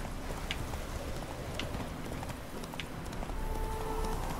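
Roach the horse galloping in The Witcher 3, rhythmic clip-clop hoofbeats carrying steadily through the whole stretch over a constant background bed, moderately loud and without voices.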